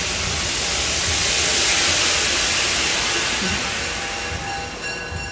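A MARC Penn Line commuter train rushes past close by on an outdoor walk, a loud, broad roar of wheels and hiss that swells and then slowly fades.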